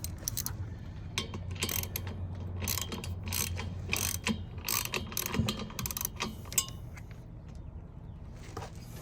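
A hand ratchet with an 11/16 socket works on a part of an LG front-load washer during a tub bearing and seal repair. It gives close, repeated clicking pawl strokes in uneven bursts over a low background hum.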